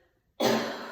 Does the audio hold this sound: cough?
yes